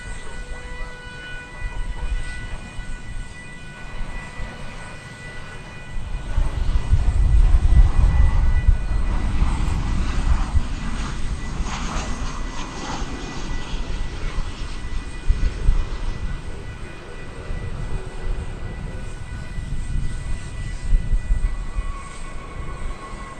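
An American Airlines Boeing 737-800 arriving at DFW airport, heard as a steady jet engine rumble that swells around the middle of the approach and then holds at a lower, continuous roar.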